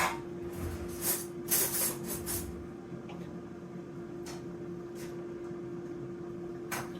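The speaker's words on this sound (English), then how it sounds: "I hear a bit of a hum in the air fryer, can't be helped." An air fryer gives off a steady low electrical hum in a home kitchen, constant and faint, with a few soft clicks and bumps of handling in the room near the start.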